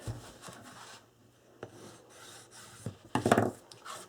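Short rasping rubs of a burnishing tool on a folded mitered paper edge of an album cover, soft and close, in uneven strokes with a louder burst near the end.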